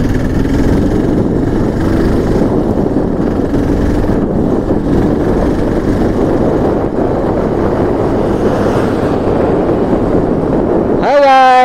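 Motorbike climbing the hairpin bends of the Dhimbam hills, a steady close engine drone with wind rush throughout, heard alone until a rising whine at the very end.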